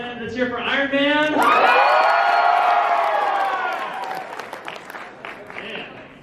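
At a Marvel Infinity War panel at Los Angeles Comic Con, a big crowd erupts for Iron Man with loud clapping, whoops and shouted cheers that peak early, then gradually fade.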